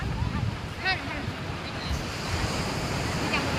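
Sea waves washing onto a shore near a temple, a continuous broad roar with wind buffeting the microphone and a brief faint tonal sound over it.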